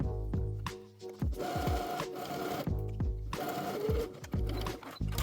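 A sewing machine stitches a dress hem close to the folded edge, running in loud rhythmic bursts of rapid needle thumps with brief pauses between runs, close up and with no talking.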